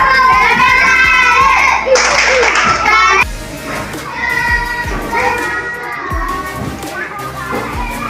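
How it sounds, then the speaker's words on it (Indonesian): A classroom of young elementary schoolchildren claps for a group of classmates, lively, uneven hand claps mixed with excited children's voices and chatter, fading into scattered claps and talk. "Tepuk tangan untuk kelompok 4."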